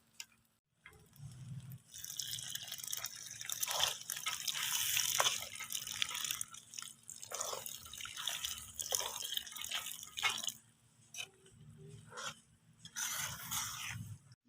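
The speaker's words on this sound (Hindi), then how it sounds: "अभी हम तकरीबन 1 किलो इसके अंदर पानी शामिल करेंगे।" Water, about a kilo, is poured into a pot of cooking wheat halwa made with wheat porridge after the milk has dried off: a close, steady splashing and trickling pour, running on with brief pauses and no talk.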